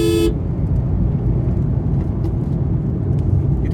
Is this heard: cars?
yes